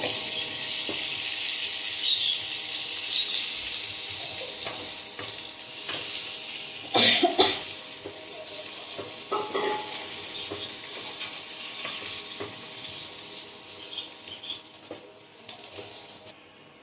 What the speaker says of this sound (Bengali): পেঁয়াজগুলোকে আমি হালকাভাবে ভেজে নেব।